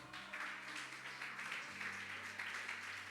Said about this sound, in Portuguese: Se coloque de pé, aplaudindo ao Senhor.